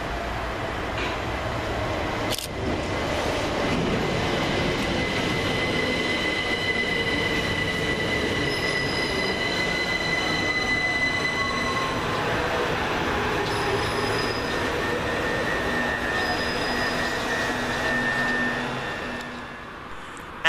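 A Class 377 electric passenger train rolls into Goring-by-Sea station with a steady rumble and hum, brief high squeals from the wheels and rails, and a soft mechanical whine as it slows.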